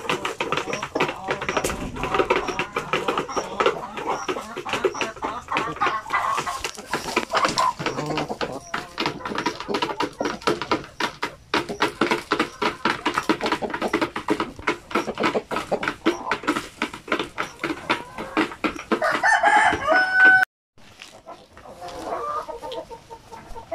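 Black chickens cluck and scratch busily at feeding time, with a constant patter of pecking and movement close by and people talking intermittently over the flock.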